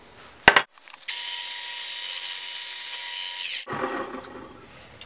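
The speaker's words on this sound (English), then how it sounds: "Do a center punch right there and drill our quarter inch hole." A power drill bores a quarter inch hole through a center-punched metal mounting block, a brief clunk then a steady high whirring bite lasting a few seconds, followed by scattered clanks and handling noises.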